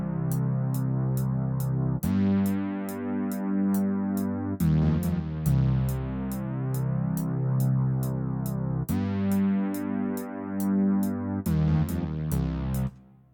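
A synth melody in C natural minor plays a steady run of sustained notes that change every couple of seconds, with crisp ticking hi-hat hits riding on top of a hip-hop beat, loud and continuous throughout.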